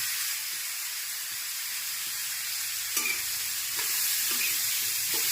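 Tender sorghum ponk is tossed into hot oil tempered with cumin, curry leaves and turmeric, giving a faint, steady sizzle with a few soft scraping stirs and light taps.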